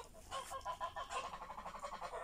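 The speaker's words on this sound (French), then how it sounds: "Là, on a les canards." Farm ducks calling close by, a run of loud rhythmic quacks and honks repeating steadily over light outdoor background noise.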